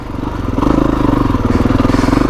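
A 2021 Kawasaki KX450X dirt bike climbs a trail, its engine lugging in a steady, loud, pulsing drone with rhythmic throttle throbs, heard up close and alone.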